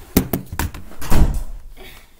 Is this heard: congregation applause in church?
no